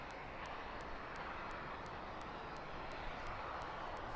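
An airplane at East Midlands Airport, heard as a steady, broad aircraft engine roar at moderate distance, continuous and even throughout with a faint regular ticking on top and no talk.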